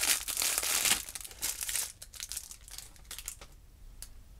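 Plastic packaging crinkles and rustles while a loot crate is unboxed, loud and close with dense crackling bursts over the first two seconds, then thinning to softer, scattered crinkles.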